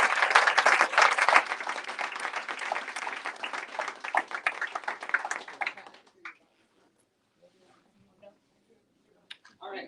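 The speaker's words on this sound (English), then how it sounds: "Y'all can give a round of applause." An audience at a Black history talk applauds in a dense, loud burst of clapping that thins out and stops after about six seconds, leaving near silence with a few faint scattered sounds.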